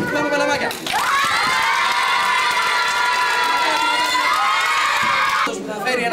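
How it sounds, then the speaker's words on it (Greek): A crowd of children shout and cheer together at a 1997 children's party, a sustained high-pitched roar of voices that bursts up, holds loudly and then trails off, with brief talk at the start and end. "Σηκώνουμε τα χέρια, φωνάζουμε και χτυπάμε παλαμάκια."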